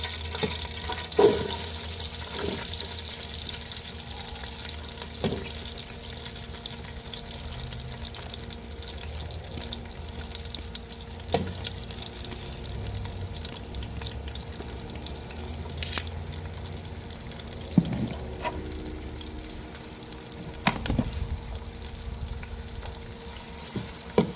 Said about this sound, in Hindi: अभी ऑयल हमारा जो है गर्म हो चुका है। अभी हम इसमें प्याज ऐड कर देते हैं।